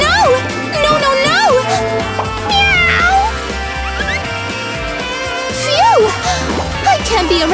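Cat meowing repeatedly, several loud, rising-and-falling meows close by over a busy background of playful music and bright effects, with voices and someone speaking around the calls.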